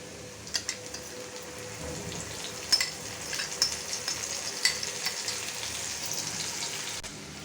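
A spice paste sizzles with fried onions in a pan for a hilsa fish curry, a soft steady fry with scattered crackles and a few sharper pops, close but fairly quiet.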